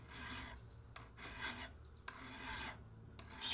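A Nicholson mill file rasps across a knife spine to square it, cutting in one direction. The strokes are rhythmic and gritty, roughly four of them, close but fairly quiet, with no talking.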